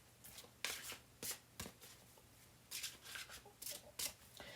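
A new tarot card deck is shuffled in several quiet, crisp bursts of riffling cards, separated by brief pauses.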